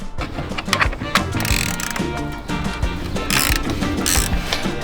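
A ratchet on an extension bar clicks in quick repeated strokes while undoing a bolt on the fuel filter housing of a Mercedes Sprinter diesel van, the close, mechanical ticking continuous throughout with no speech.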